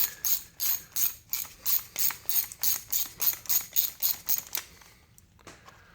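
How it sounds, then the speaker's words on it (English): A ratchet wrench clicks in quick repeated strokes while bolts are tightened during a 2.0 L engine and transmission replacement on a Suzuki Forenza, about a dozen close, loud bursts in steady rhythm before stopping, with no talk. "Tighten them all up at once."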